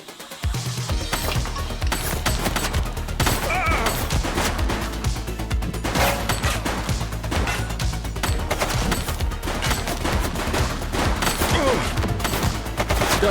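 Sustained gunfire rattles nonstop in The Precinct video game, dense rapid shots and impacts layered over a loud, continuous mix of game audio.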